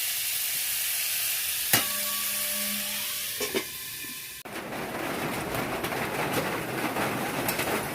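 Fish oil and melted fish fat sizzle in a frying pan with a steady, close hiss throughout, broken by a few sharp clinks and a knock partway through, after which the frying sound shifts and roughens; no one speaks.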